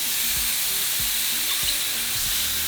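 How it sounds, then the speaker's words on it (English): Steak frying in a pan for a surf-and-turf molcajete gives a steady, bright hiss up close, with soft low thumps every half second or so beneath it. "so we're also going to cook our steak."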